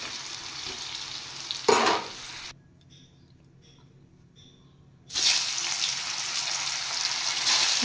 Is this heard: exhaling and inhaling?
no